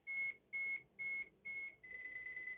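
A non-contact voltage tester beeps close and clear in a steady slow rhythm of four evenly spaced tones, then holds one continuous tone.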